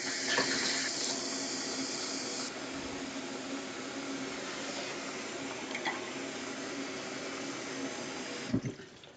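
A kitchen tap runs steadily into a sink filling with soapy washing-up water, a continuous close hiss and splash with a few clinks near the end.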